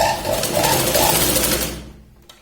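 A sewing machine runs a fast, steady stitching whir along the waist section of a katori blouse, loud and close for about two seconds before winding down to a stop.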